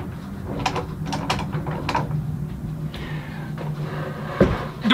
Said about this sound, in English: it's time to take this one out of the clamps and work on gluing up the other 2 smaller tables